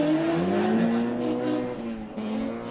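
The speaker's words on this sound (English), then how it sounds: "So that's the Toyota Altezza motor" Drift car with a Toyota Altezza engine at a drift championship round, engine revving with rising and falling pitch and tire noise, moderately distant over crowd ambience.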